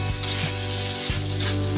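Fried rice stir-fried and turned over in a hot pan, giving a steady close sizzle with a couple of scraping strokes across the pan, no voices.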